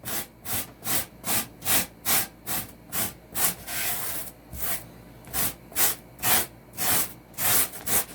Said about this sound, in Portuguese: vai passando, ó, e vai lixando e vai nivelando a peça